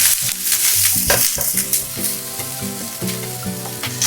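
Shiitake mushrooms stir-fry in a hot wok with a loud, steady sizzle, broken by repeated scraping and clanking strokes of a spatula against the metal, with no voices.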